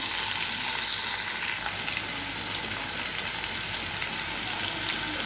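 Sliced raw plantain frying in oil with salt and turmeric powder, a steady close hiss of sizzling that runs unbroken throughout with no voices.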